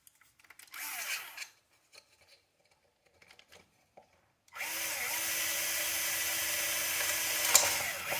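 A power drill bores a straight 1.6 mm hole through an SBX-1 emulsion shock cap, with short bursts of drilling early on, then a long steady high-pitched whine for several seconds, loud and close.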